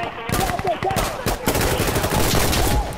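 Dense, rapid gunfire from a modern military shooter game rattles throughout in continuous bursts, close and loud, with a player's voice faintly underneath.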